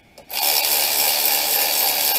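A power tool runs bolts down on the ABS speed sensor of a 2012 Dodge Avenger SE hub assembly, giving a loud, steady high-pitched whir that starts sharply after a brief click and holds for about two seconds.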